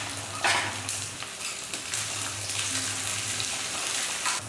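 Small onions, a handful, sautéing in hot oil with curry leaves in a pan for drumstick-leaf sambar, a steady close sizzle with a few stirring scrapes and no talking.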